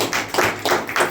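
A church congregation claps for the Lord during a Hindi-language sermon, several bursts of crowd hand clapping rising and falling over about a second, close and fairly loud with no talk.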